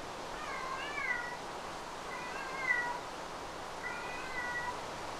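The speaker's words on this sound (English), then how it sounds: "oh, there's my cat meowing." A pet cat meows three times, the calls drawn-out and evenly spaced, moderately close and clear over a quiet room hum.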